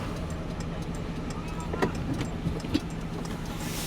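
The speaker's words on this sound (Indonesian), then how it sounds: "Mobilnya selip, nggak kuat." Unloaded car straining on a road, its wheels slipping for lack of load weight, a continuous low engine drone with a few brief knocks and thumps over it, fairly quiet and steady.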